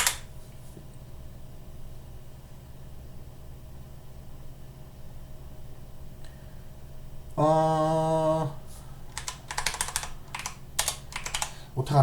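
Someone types a pip install command on a computer keyboard in faint, sparse clicks at first. A short burst of louder noise follows, then quick close key taps near the end, with speech in between.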